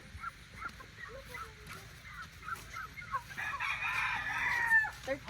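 Turkeys gobble and cluck in a farmyard with other animals, a run of short repeated calls at moderate distance, ending in a louder, longer burst.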